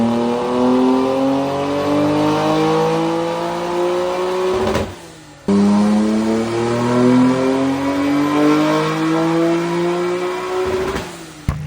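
A Nissan R33 GT-R engine, freshly rebuilt with an upgraded clutch and injectors, revs hard on a dyno in two long pulls, rising steadily in pitch before cutting off sharply. The sound is loud and close.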